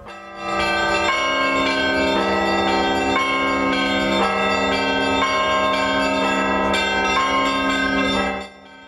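Church bells peal loudly and steadily, struck repeatedly in an overlapping rhythm with a rich, ringing tone that holds for several seconds before stopping.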